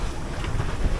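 Wind at sea aboard a sailboat, a steady broadband rush with low buffeting rumbles against the microphone, continuous through the short moment.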